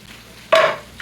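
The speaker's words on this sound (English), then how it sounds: "We're going to go ahead and put our onions in the butter and oil mix first." Onions drop into a pan of butter and smoked pepper avocado oil for sautéed collard greens, giving a sudden loud burst of sizzling after a quiet moment, then a fading hiss.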